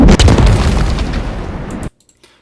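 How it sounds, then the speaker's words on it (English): A loud, layered explosion sound effect: one broad, rumbling burst that sustains for almost two seconds, then cuts off abruptly into near silence. "I just threw like an extra explosion sound, and it ended up sounding like this."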